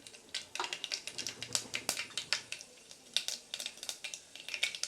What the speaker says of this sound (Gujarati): 1 ચમચી જેટલી રાઈ નાખીશ